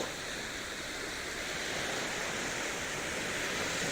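Sea surf on the beach at Puerto de Mazarron in Murcia, a steady broadband wash of waves heard evenly throughout with no voices.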